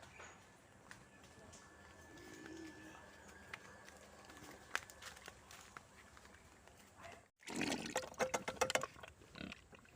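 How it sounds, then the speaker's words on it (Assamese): A pig at a feeding trough on a farm gives low grunts and snuffles amid scattered knocks and shuffling. Near the end a louder burst of rustling and clatter sounds, and a person talks at times. "এইটো গাহৰি দানা গৈ আছোঁ মই এতিয়া খালত"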